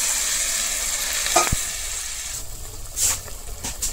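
Mango chutney with dates and cashews sizzles and fries steadily in a pan as a little water is added, a continuous loud hiss with brief sharp spits and stirring scrapes, no talking.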